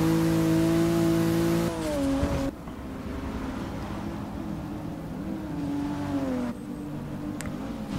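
Race car engines drone loudly and steadily during an ETCC race at Sebring International Raceway in Forza Motorsport 6, with the pitch dipping at gear shifts and no voices.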